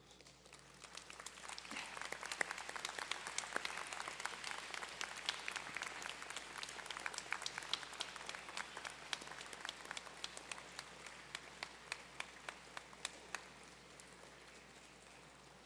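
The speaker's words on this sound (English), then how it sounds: "this would be a good time to stand, turn around, and applaud all who have helped you get to this" Graduates and guests applaud at a university convocation ceremony, a broad, distant-sounding wash of many hands clapping that stays steady and fairly quiet for the whole stretch.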